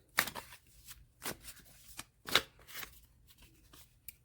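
Tarot cards are shuffled close up, with several quick riffles and soft slaps spaced through the passage against a quiet, faintly humming room.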